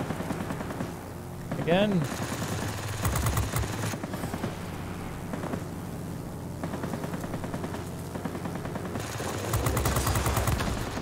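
Machine guns on a Hurricane Ia fighter plane rattle in long rapid bursts in World of Warplanes, loud and close over a steady engine drone, with a brief spoken word and a whistling swoop early on.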